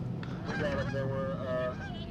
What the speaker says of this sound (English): The geese are coming in formation right at us.